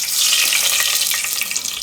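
Mustard seeds sizzle and crackle in hot oil inside a pressure cooker, a steady close hiss with small pops throughout, no voices.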